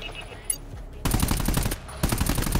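Rapid automatic gunfire from weapons in the co-op shooter video game GTFO comes in two loud sustained bursts, one after the other with a short gap between, up close and dominating the mix.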